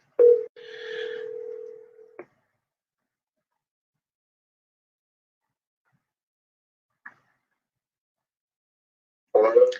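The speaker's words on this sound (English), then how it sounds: "Let me see if I can get him on the phone." Telephone dialing tones ring out as a call is placed to an interview guest: a long steady tone and a short beep, then silence broken by a brief click and a burst of sound at the end.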